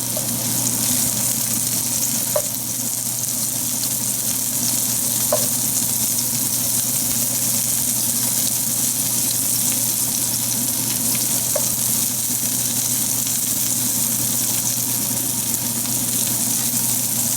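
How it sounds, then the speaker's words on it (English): Pork and mushrooms fry in a pan over high heat, a constant loud sizzle with a few faint clicks of stirring scattered through it and no voices. "Let it cook over high, and then we'll fry all of the mushrooms"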